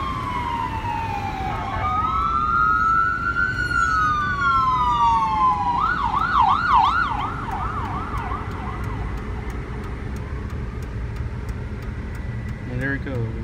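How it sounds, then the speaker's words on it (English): A UT Health East Texas Ford E-350 Econoline ambulance passes while responding, its siren sweeping in a slow wail, then switching to rapid yelp cycles before fading farther off, heard over steady traffic rumble. "wailing its siren."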